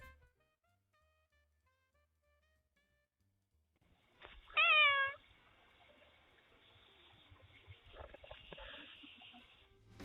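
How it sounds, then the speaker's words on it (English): A cat meows once, loud and close, into a Ring doorbell, heard through its thin, tinny speaker after near silence, followed by faint rustling and trickling noise. "It even sounds like she meows mom at one point."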